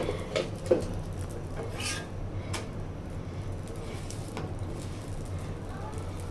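Roti cooks in a pan on a stove under a low, steady background hum, with a few light clinks and knocks of kitchen utensils near the start and a faint voice in the background.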